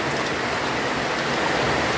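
Steady rain falling outdoors near a shop and potted money plants, a dense, even, close hiss of countless drops with no let-up, thunder or voices.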